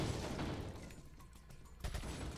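A few scattered gunshots in the Resident Evil 4 shooting gallery, faint and sparse, with one sharper burst near the end.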